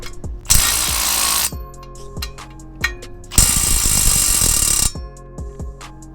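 A cordless ratchet works tight transmission bolts under a car, giving two long loud buzzing runs of ratcheting with short clicks and clanks between them, near and clear.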